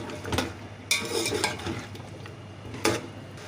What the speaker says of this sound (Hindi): अब मैं इसमें शामिल करूंगी तकरीबन 4 अदद मैंने बड़े वाले आलू ले लिए थे